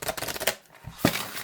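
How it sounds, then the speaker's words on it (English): Tarot cards shuffled side by side by hand, a quick run of soft riffling flutters followed by a brief pause and one sharper card slap, close and fairly quiet. "I tend to shuffle them side by side this way."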